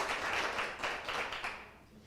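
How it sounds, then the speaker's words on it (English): An audience at a roadshow afternoon session claps for the event sponsor, a dense, steady wash of hand claps from a moderately sized crowd that fades slightly toward the end. "let's give them a round of applause at home"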